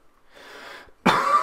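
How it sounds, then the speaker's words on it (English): A single sharp, close cough bursts out after a moment of soft throat and breath noise, from a person playing Legend of Zelda: Breath of the Wild. "I apologize for the coughing."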